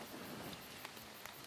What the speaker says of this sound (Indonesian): Aduh, hujan.